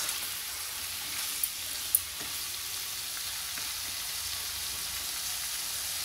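Cauliflower and green peas fry in a pan with a steady, close sizzle. A couple of sharp clicks from stirring break through the hiss, and no one speaks.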